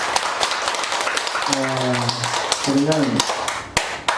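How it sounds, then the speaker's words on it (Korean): Clapping rings out in a Korean lecture hall during a Wednesday talk, with broken, uneven claps rising over voices. Speech continues throughout. "네, 자 박수."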